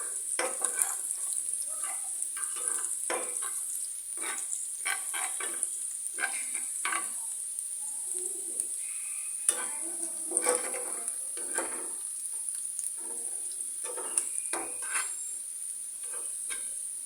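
Onions fry in a pan for shorshe pabda and are stirred now and then. A soft continuous sizzle runs throughout, punctuated by frequent scraping strokes of a utensil against the pan, close and fairly quiet, with no voices.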